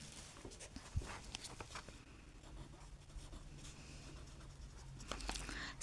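A pen scratches across paper in short, quiet strokes at close range, with soft taps and pauses between words of math working.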